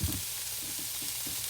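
Bacon and finely chopped shallots fry in a pan with a steady, close hiss of sizzling fat and small intermittent stirring bumps, with no talk.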